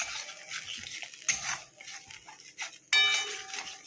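A spoon stirs tomato curry in a pan, scraping and clinking against the metal in short irregular bursts, with a louder clatter near the end and no talking.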